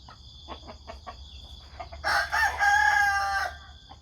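A rooster crows loudly in the morning, a long drawn-out call near the end, preceded by soft clucks and fowl sounds over faint background noise.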